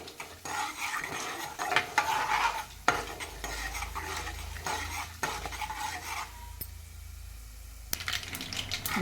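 Cumin, chana dal and urad dal frying in hot oil as a tempering, with mustard seeds, give a soft crackling sizzle close by. A spoon stirs and scrapes the pan, and utensils clink now and then.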